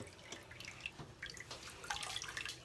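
Water trickling and dripping as a basin drains after rinsing a synthetic wig, a quiet irregular patter with gurgles that grows busier toward the end, with no talking.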